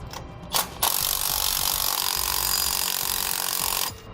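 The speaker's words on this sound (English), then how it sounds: "we're going to tighten these down in an alternating pattern so it's equal" A power tool runs nuts down onto the U-bolts of a rear anti-sway bar axle bracket on a 2000 Chevrolet, with two short clicks, then a steady whirring run of about three seconds that stops abruptly.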